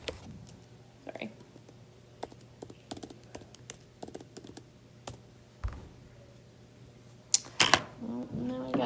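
Scattered keystrokes and clicks on a computer keyboard, faint and irregular, with a brief louder rustle near the end.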